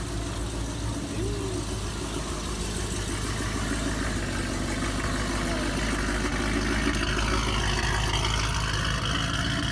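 Boosted Chevrolet Camaro engine idling at steady volume, a constant low rumble with a lumpy rhythmic throb, close and continuous without revving.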